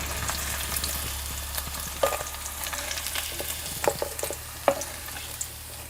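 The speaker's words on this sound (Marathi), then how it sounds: "आपल्याला आहे ना हे पनीर परतून घ्यायचं" Paneer cubes sautéing in hot oil in a pan for paneer masala, a dense close frying crackle with occasional sharp spatula scrapes and taps, no voices.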